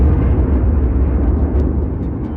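A giant deep-space explosion for the birth of the Sun, as a sustained heavy rumbling roar that stays loud and dense throughout, with a faint crackle near the end and no voices.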